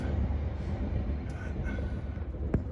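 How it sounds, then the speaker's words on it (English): A New Zealand train rolls past, a steady low rumble and rattle of carriages with a brief sharp metallic clank near the end, moderately loud amid outdoor wind. "Here comes the New Zealand train."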